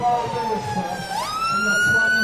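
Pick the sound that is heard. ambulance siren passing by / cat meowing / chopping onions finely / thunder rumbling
ambulance siren passing by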